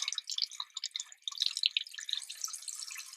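Tap water runs into a sink as a paintbrush is rinsed under it, a faint, continuous trickling and spattering of drips with no voices.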